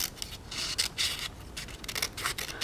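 Scissors cutting around a shape drawn on paper for a harvest corn-on-the-cob collage craft, with a quick series of close, crisp snips and paper rustling and no voices.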